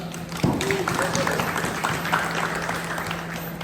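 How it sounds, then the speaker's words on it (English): Audience claps for a presenter at a real estate mixer held in a fitness gym, a moderate patter of hands from a small crowd, with voices talking over and under it. "give it a round of applause for Laura"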